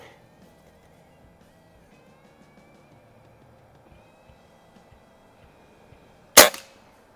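A Beeman QB Chief air rifle fires a Crosman Premier hollow point pellet at a range: one sharp, loud crack near the end after a long quiet stretch with faint background noise.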